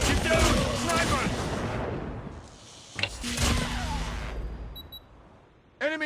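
Gunfire from a sniper in a battle video game cracks out in two sharp reports, at the start and near the three-second mark, amid game combat noise, with voices shouting at the end.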